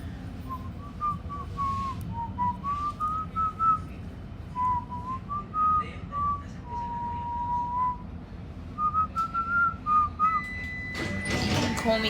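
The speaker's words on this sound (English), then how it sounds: "Now you got me whistling that song." Close, clear whistling of a wandering melody in a series of short phrases, set against the steady rumble of a train near Pascoe Vale, with a brief door-like clatter near the end.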